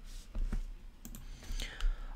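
Typing on a computer keyboard at a desk: a few faint, scattered key clicks and taps with short gaps between them, quiet and close, with soft breathy noise behind.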